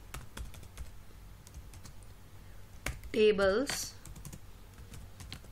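Rapid, steady keystrokes on a computer keyboard as HTML code is entered, close and clear, with a brief spoken word partway through.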